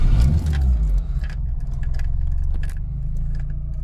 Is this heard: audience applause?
no